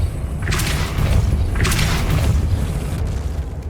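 Depulso force spell in the video game Hogwarts Legacy, two loud whooshing booms about a second apart over a dense, rumbling game background.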